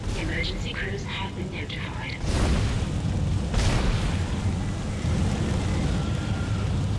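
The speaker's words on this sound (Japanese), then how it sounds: "アイザックの乗ってきた船が爆発してしまった" Isaac's ship blows up in the sci-fi horror video game Dead Space, a deep rumbling boom that erupts suddenly after a quieter stretch, followed by a second burst and a sustained low roar, with a commentator's voice faintly under it.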